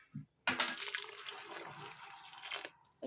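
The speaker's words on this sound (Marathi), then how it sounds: "तेच पाणी ना आता मी ह्याच्यामध्ये ना टाकणार आहे तर अगदी गरम आहे बघा" Hot water pours steadily into a pot of potato, sago and barnyard millet mixture for a couple of seconds, a rushing, splashing stream that cuts off abruptly, with a short knock before it starts.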